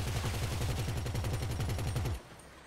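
Rapid, sustained automatic minigun fire from a pickup truck in GTA 5 Online, a fast, even rhythm of shots, loud and close, cutting off abruptly near the end.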